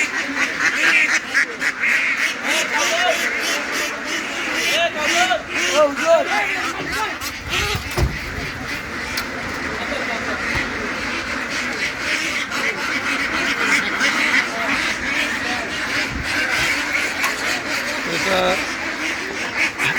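A newly bought flock of about 700 ducks quacks constantly in a loud, crowded chorus, with people talking over the noise throughout.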